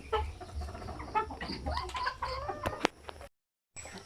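Peruvian-cross roosters on a backyard farm cluck repeatedly at close range in uneven bursts, with a short cut to silence near the end.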